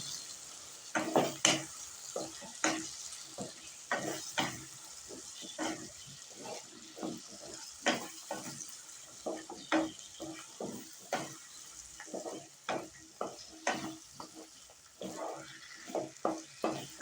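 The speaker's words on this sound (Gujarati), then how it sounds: "હવે આ બધું આપણે મિક્સ કરી લઈશું" Eggplant and potato curry frying in a pan while being mixed, with rhythmic scraping and stirring strokes over a soft, continuous sizzle, heard close up.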